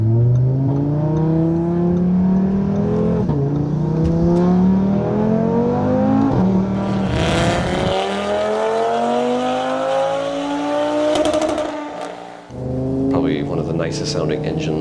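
An Audi RS3's modified inline five-cylinder engine revs hard and close, its pitch climbing steadily before dropping sharply at a gear change and rising again, loud throughout.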